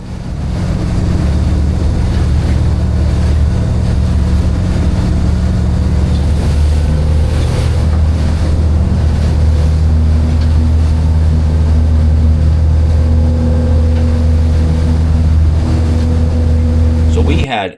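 A motorboat engine drones loudly and steadily crossing Long Island Sound toward Montauk, with a low rumble, rushing water and wind noise throughout.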